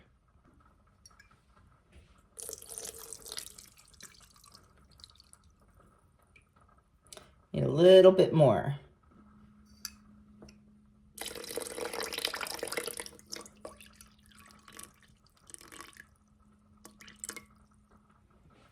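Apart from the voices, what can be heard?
filtered water being poured in for roll dough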